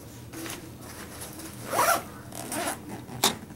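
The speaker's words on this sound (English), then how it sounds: "Now this top pocket has a zipper on the top and the bottom." A zipper on the top pocket of a 5.11 Rush 24 backpack is pulled in a few quick rasping strokes, close and distinct, with the loudest pull near the middle and a short final tug.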